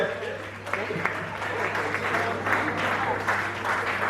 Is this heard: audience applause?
yes